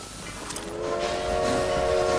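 A train rolls past in the video game Red Dead Redemption, its rumble building as a sustained tonal whistle or horn sounds loudly over it, with no talk.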